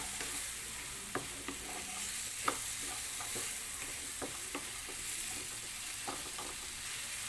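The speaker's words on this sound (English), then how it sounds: "put our vegetables, the potato and the carrot. And we just have to mix this well" Potato and carrot are stirred in a frying pan during a vegetable and paneer stir fry: a soft, low sizzle runs throughout, broken by irregular spatula scrapes and taps against the pan.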